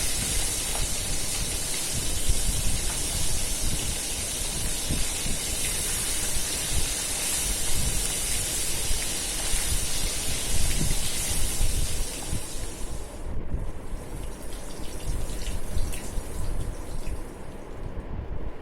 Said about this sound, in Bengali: সব মাছ কটা এইভাবে ভেজে নেব। উল্টে পাল্টে দুই পিঠই ভালো করে ভাজতে হবে